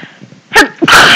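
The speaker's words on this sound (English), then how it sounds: "So I'm gonna sneeze." A person sneezes close and loud: a quick breath in, then a sharp burst that trails into a second blast.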